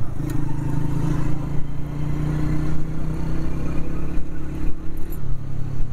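A motorcycle rides along a city ring road toward the Wagah border, giving a continuous close engine drone mixed with road and traffic noise, with no pauses.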